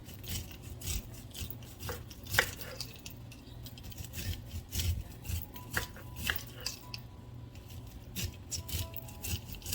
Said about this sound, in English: what I'm going to do is just cut it right off the cob